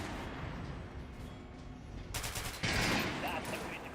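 A gun fires at a dummy's head in the Metro Last Light Redux game: quiet background at first, then a sudden loud burst of shots and an impact, with echoes after.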